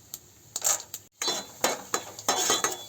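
Mustard seeds and chana dal fry lightly in oil, with a metal spoon repeatedly scraping and clinking against the pan over a soft sizzle in irregular bursts.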